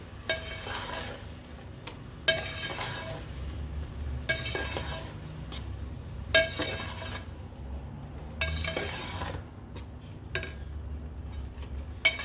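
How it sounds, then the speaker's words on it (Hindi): A metal spoon mixes sweet zarda rice in a pot, giving repeated scraping and clinking strokes every two seconds or so over a low steady hiss, with no talk. "तो हमने अच्छे तरीके से चमचा ला लेना है, इसको मिक्स कर देना है।"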